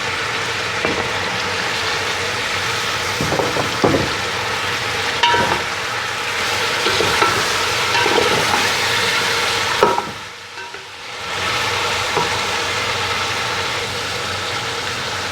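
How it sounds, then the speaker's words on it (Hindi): Chicken fries in a pot for Sindhi pulao biryani, a steady broadband sizzle with a low hum beneath and occasional stirring knocks. The sizzle briefly drops away near the end, then returns. "चिकन तकरीबन फ्राई हो चुके हैं।"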